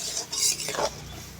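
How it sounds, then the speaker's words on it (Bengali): Marinated chicken being stirred slowly in a pan for Chicken Patiala, giving short soft scraping and clinking strokes over a low sizzle, close and brief. "আস্তে আস্তে মাংসটা এই সময় কষতে হবে, হালকা হালকা করে।"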